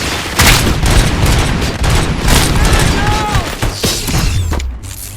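Gunfire in the RoboCop: Rogue City video game comes as rapid, loud, overlapping shots and booms with mechanical clatter, a near-continuous barrage that runs for several seconds.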